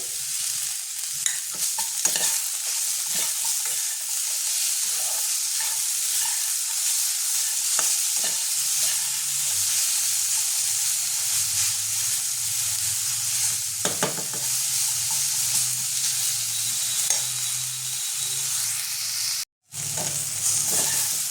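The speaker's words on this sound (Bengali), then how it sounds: "পেঁয়াজ আলু রসুনটা আমার ভালো মতো ভাজা হয়ে গেছে" Potato, onion and garlic fry in a pan for a Bengali-style fish-oil curry, a steady close sizzle broken by repeated scraping stir strokes, with a brief dropout near the end.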